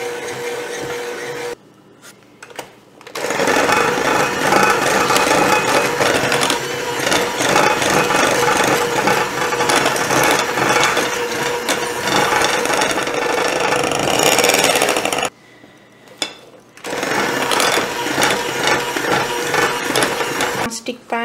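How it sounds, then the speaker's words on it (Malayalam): An electric beater whirring through red velvet cake batter with red food colour, a loud, steady close buzz running for long stretches with two brief pauses where it stops. "അതുവരെ ഇത് നന്നായി ബീറ്റ് ചെയ്യും."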